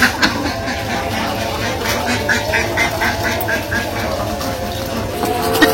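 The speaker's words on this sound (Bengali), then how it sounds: "হাঁস এসে পড়ছে এদিকে, মানে হাঁসগুলা ঘরে দিয়ে নেই" Village ducks quack as a dense, continuous chorus in the evening, several birds calling at once, fairly close and steady, with outdoor background noise and no talk.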